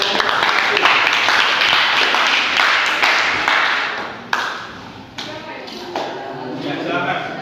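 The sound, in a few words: classroom applause for group 1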